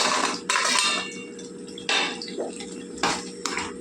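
Paneer masala gravy curry being stirred in a pan: a spoon scrapes and clatters against the metal in three or four short bursts, with a soft simmer between them.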